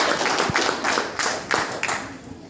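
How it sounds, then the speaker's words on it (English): Audience clapping at a city council redevelopment planning meeting, a brief burst of scattered hand claps from a moderate-sized crowd with some uneven, irregular rhythm and a faint voice underneath. "Go ahead, start with applause."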